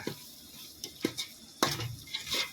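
Soya chunks frying in masala in a pan, stirred in a few separate bursts of clinking and scraping over a soft sizzle, close by, with no one talking.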